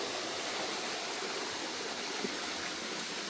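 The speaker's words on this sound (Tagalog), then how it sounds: "Paggilid natin dito sa Batong Malaki. May magandang falls." Rushing water from a waterfall and stream at Batong Malaki in the mountains, a steady, dense hiss with no pauses, close and continuous, with no voices over it.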